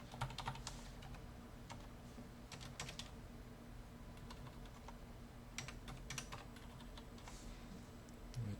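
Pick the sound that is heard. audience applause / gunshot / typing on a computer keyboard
typing on a computer keyboard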